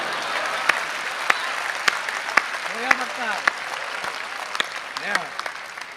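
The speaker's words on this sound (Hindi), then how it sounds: "तालियां दे दो, तालियां दे दो, तालियां दे दो" An audience at a shayari show breaks into steady applause that fills the room for several seconds, with a voice speaking over the clapping.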